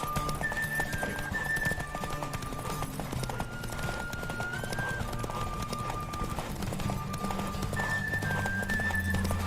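Rapid hoofbeats of a galloping horse in The Witcher 3, a continuous rhythmic clatter under game music with faint tonal voices, fairly quiet throughout.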